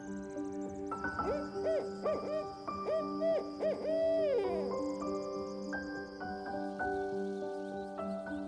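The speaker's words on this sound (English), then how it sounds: "The barred owl is another resident of the White Mountains forests, known for its distinctive "Who cooks for you" call." A barred owl in a New Hampshire White Mountains forest gives its rhythmic hooting call, a series of clear hoots in a steady phrase against a faint background of insects.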